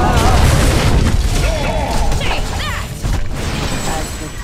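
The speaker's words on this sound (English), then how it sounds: "The Hellborn have destroyed a Legion Tower!" A Legion Tower is destroyed in Heroes of Newerth, a heavy crashing boom and collapse among layered game effects, followed by an announcer-style voice over busy battle noise.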